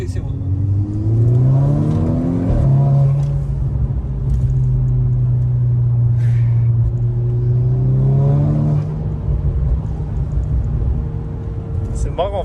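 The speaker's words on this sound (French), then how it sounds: "T'as la dump valve, t'as le pop, t'as le crack au passage de rapport et tout." Volkswagen Golf 6 R engine revving and accelerating through the gears from close by, with rising and falling engine pitch, brief drops at the shifts, and a loud steady rumble throughout.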